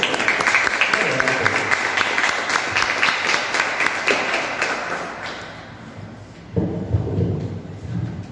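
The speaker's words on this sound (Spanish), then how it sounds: "les pido un fuerte aplauso, por favor" Audience applause at a literary talk for writer Rubén Meneses in San Luis Río Colorado, a loud dense clapping that swells, fades briefly near the middle, then surges again toward the end.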